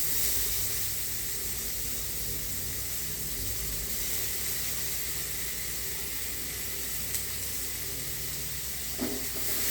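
Chopped onion frying in butter and oil in a pan, a steady, even sizzle and hiss that runs unbroken with no talking, with a small click near the end.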